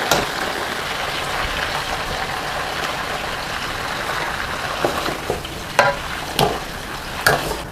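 Taro slices frying in hot oil give a constant bubbling sizzle, close by, with a few sharp clatters near the end and no voices.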